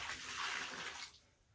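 Water is poured into a can for an earthbag mix on a shed build, a close, rushing splash that fades out near the end, with no talking.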